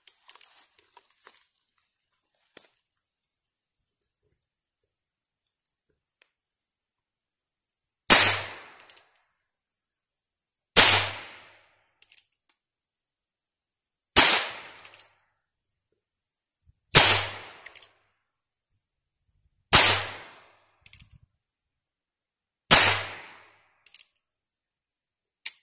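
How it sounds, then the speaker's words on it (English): Six sharp gunshots from a Heritage Rough Rider .22 revolver, spaced a few seconds apart at a steady pace, each a loud crack with a short decay, and near silence between shots. "let's take a few shots and let's see what kind of accuracy we can get out of it."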